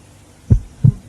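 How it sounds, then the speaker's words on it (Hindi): A heartbeat sound effect with two soft, low thumps about a third of a second apart over a faint hum. "इनकी धड़कनें चल रही है।"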